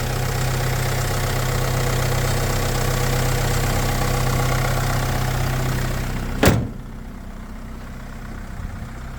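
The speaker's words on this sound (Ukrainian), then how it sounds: "Чиста робота двигуна." A 2015 Renault Master passenger van's diesel engine idles with a steady, slightly knocking drone, then a sharp thump cuts it off, leaving quieter background.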